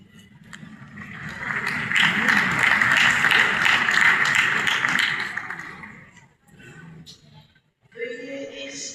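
Applause from an audience welcoming invited guests at a human rights forum in a palace hall, sustained clapping that swells and fades over several seconds, followed by a voice speaking.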